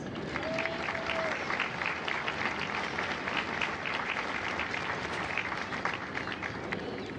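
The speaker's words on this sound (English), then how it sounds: "Please give yourselves a round of applause." Applause at a Marine Corps recruit graduation in San Diego, a large outdoor crowd clapping steadily and densely throughout, with cheers and a brief whistle rising over it.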